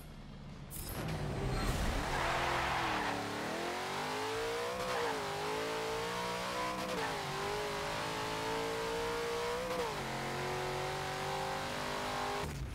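A car with 733 horsepower and 733 pound-feet of torque launches and accelerates in the racing game Forza 7, its loud engine droning steadily and climbing in pitch, with slow gear shifts breaking the rise, and no talking.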